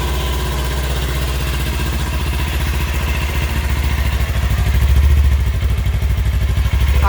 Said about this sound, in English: I'm gonna do a small sound test